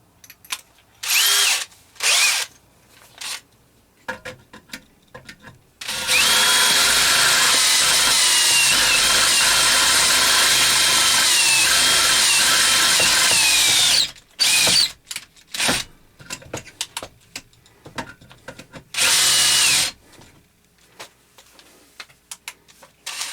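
A power drill with a 1/4 inch bit runs in short bursts, then one long steady whine of about eight seconds, followed by more brief stop-start bursts in a workshop, with no talking.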